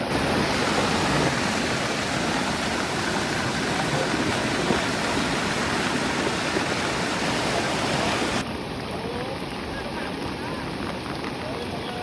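Floodwater swollen by three days of nonstop rain surges past fields near a village by the Ken river and canals, a loud, continuous broadband roar that eases slightly toward the end.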